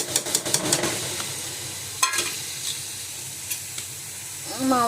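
Mawa being stirred into carrot halwa in a pan gives a soft sizzle with quick scraping spoon strokes at first, then a quieter simmering hiss with occasional clinks.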